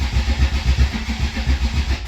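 An engine is cranked on a jump pack after a Holley 750 double pumper carburetor rebuild. The starter grinds with a loud, close, even rhythmic chug throughout, with no sign of catching.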